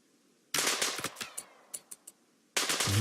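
Bursts of automatic gunfire strike a colonist during a RimWorld raid: a loud rattling volley, then scattered sharp single shots, a short lull, and another heavy burst at the end.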